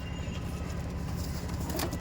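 Teddy pigeons of an Omani bloodline, a male and a female pair, coo softly and continuously in a loft, the low murmur steady and close throughout.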